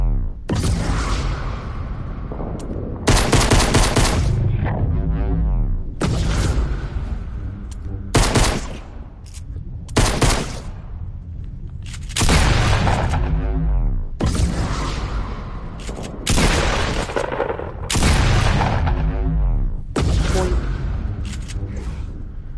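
Repeated bursts of loud rapid gunfire from the Fortnite video game, volleys firing in quick succession with whooshing effects between them, dense and close throughout.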